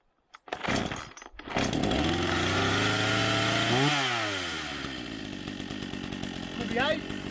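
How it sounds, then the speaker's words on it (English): A chainsaw roars up to full throttle and cuts steadily through wood, its engine pitch dipping and rising under load, loud and close. "So if you stand back, because chainsaws are dangerous."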